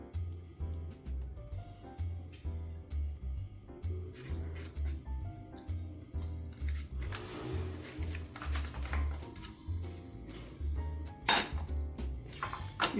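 Bolinho de chuva batter of cold milk, eggs and sugar being mixed in a bowl, with close clinks and scrapes of the utensil against the bowl over a steady low hum, growing busier and sharper toward the end.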